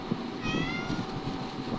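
A cat gives a single faint, short meow at feeding time, heard at low volume over a quiet background.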